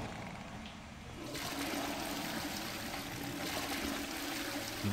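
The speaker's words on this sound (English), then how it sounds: "I really just flush the toilet." A toilet flushes in the video game Hogwarts Legacy, starting with a sudden rush of water that settles into a steady gurgling flow for several seconds at moderate loudness.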